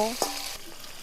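Small fish sizzle steadily in hot oil, a continuous crackling fry with a brief clink of stirring near the start.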